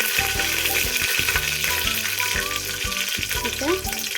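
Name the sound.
dried red chillies and mustard seeds sizzling in oil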